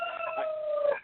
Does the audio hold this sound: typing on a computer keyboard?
no